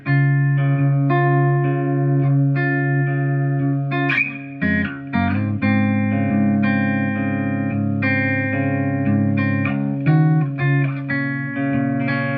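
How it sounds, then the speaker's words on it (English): Electric guitar with reverb added, a run of picked notes and chords ringing out with a roomy wash of sustain, loud and close throughout with no voices. "chuck a little bit of reverb on there and you get your."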